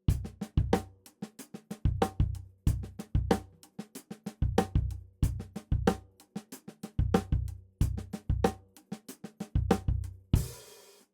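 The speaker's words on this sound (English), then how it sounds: "Okay, so for the first ghost note, we're basically playing 2 ghost notes on the E and of 1, and we're going to play the bass drum on 1 and ah." A drum kit plays a steady groove: bass drum on the downbeats, soft ghost notes on the snare between them, and sharp rim shot accents, all repeating in even bars. A brief cymbal wash comes at the end.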